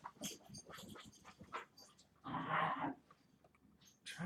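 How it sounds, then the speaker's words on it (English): Dogs whimper and let out low growls at a card shop, short yelping and grumbling bursts coming at moderate distance, fairly faint, with a louder stretch partway through. "These dogs are going to drive me nuts right now."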